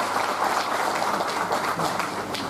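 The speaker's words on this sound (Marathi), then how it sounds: "एकदा एकनाथ शिंदे साहेबांसाठी आणि राजेंद्र यादवसाठी जोरदार टाळ्या झाल्या पाहिजे." Audience at a civic felicitation event in Karad applauds steadily for about two and a half seconds, dense continuous clapping at moderate loudness with no voices rising above it.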